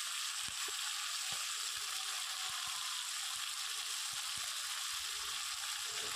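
Meat sautéing in spice masala in a wok, a soft continuous sizzle and hiss with faint scattered stirring knocks, quiet and steady with no talking.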